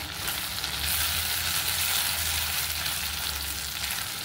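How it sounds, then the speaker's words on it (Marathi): Masala paste sautéing in butter and ghee for methi mutter malai gives off a steady, close sizzle and crackle that holds evenly throughout, with no voices. "अशा प्रकारे आता ही पेस्ट आपल्याला परतायची."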